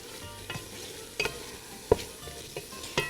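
Onions fry in a pot as the base for a Greek lamb and orzo stew, with a steady low sizzle and a few sharp clinks of a utensil stirring against the pot.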